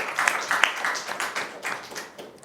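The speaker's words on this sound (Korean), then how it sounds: "우리 박수 한번 합시다." A church congregation claps together during a service, a brief burst of close, uneven hand claps with a few sharper claps that fade over a couple of seconds.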